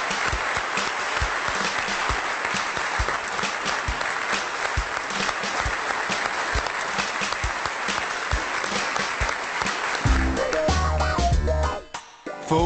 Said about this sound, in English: welcome with applause our pupils